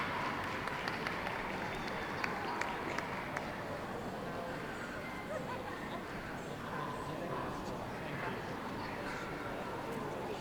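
Steady applause from an audience at the UK Toy Dog Society Best in Show 2013, a dense, continuous patter of many hands that fills the hall without a break.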